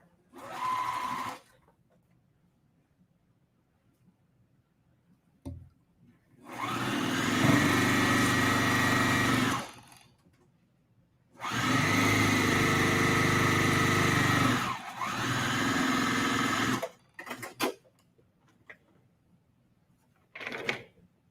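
A sewing machine stitches a quilt block seam in bursts: a short run, then two long steady runs of whirring stitches with quiet gaps between, ending in a few brief clicks and spurts.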